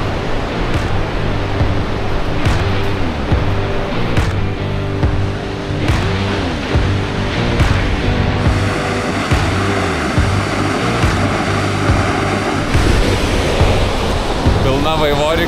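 A waterfall roars in a steady, dense rush throughout. The sound is loud and close, with a rainbow in the spray below, and voices talk at points over it.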